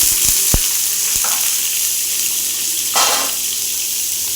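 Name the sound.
onion, curry leaves and chilli sautéing in hot oil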